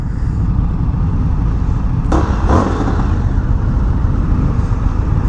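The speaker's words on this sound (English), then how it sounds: "I really do not like that sound of that exhaust." Exhaust drone from an Indian FTR 1200 motorcycle on the move, a steady rough rumble mixed with wind noise, close and loud throughout with a couple of brief sharp bumps midway.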